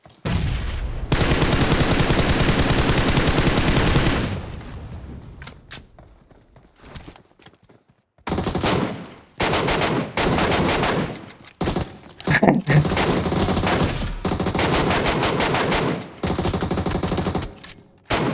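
M416 assault rifle fire in a mobile shooter game comes in long, loud automatic bursts, broken by a short quiet gap and then several shorter rapid bursts.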